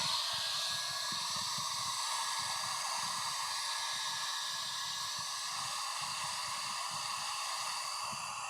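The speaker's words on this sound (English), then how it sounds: "So I'll be using a heat gun with the knife in the sheath." A heat gun blows steadily while warming a Kydex knife sheath with the knife inside, a constant close hiss and whoosh of hot air that runs unbroken and fairly loud, with no speech.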